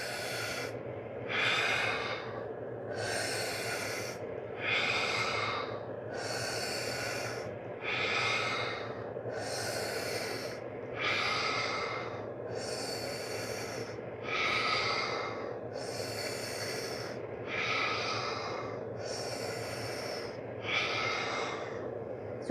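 Slow, deep breathing while holding a seated spinal twist: about a dozen long, airy inhale and exhale cycles at an even pace, close and clear, with no talk.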